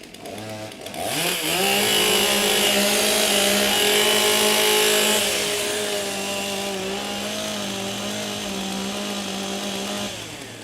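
Several chainsaws being warmed up at a STIHL Timbersports professional woodchopping competition in Australia, starting with a sudden loud roar and settling into a steady, sustained high-pitched engine drone with no talking.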